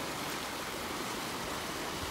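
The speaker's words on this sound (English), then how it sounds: "lots of water in the river right now" The Yakima River near Cle Elum running high at over 4,000 CFS, a steady broadband rush of fast water, close and continuous with no voices.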